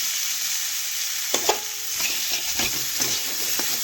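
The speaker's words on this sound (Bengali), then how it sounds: "এখন আলুগুলো নাড়াচাড়া করে একটু তেলের সাথে ভেজে নেব" Potatoes stirred and fried in oil with salt in a home kitchen pan, a continuous soft sizzle broken by scraping spatula strokes and light clatter from close by.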